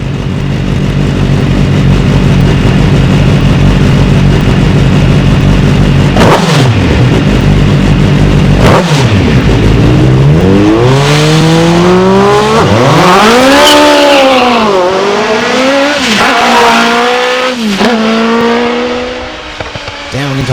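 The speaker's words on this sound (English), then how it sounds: "Straight 8 motorcycle engine machine." A straight-eight motorcycle-engined sports car pulls away from the Gurston Down hillclimb start line, its engine screaming through rising and falling revs with sharp gear changes, loud and close before fading as it climbs away.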